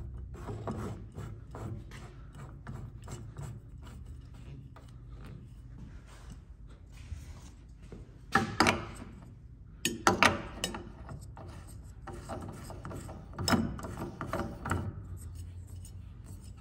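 Fuel filters being screwed back onto a newly mounted AirDog fuel pump, with ratcheting, clicking metal-and-plastic turns and a few sharper clacks over a steady low background rumble.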